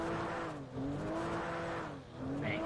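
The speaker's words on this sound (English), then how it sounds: "Bit of wheel spin is rear wheel drive after all, with over 500 horsepower." Rear-wheel-drive luxury car with over 500 horsepower in GTA 5 spins its wheels, the engine droning steadily with rising pitch sweeps and brief tire squeal, loud and close with two short dips in level.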